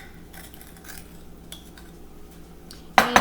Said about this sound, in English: then you're going to spread the batter with a spoon